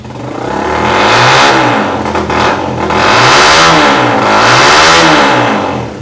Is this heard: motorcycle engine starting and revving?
yes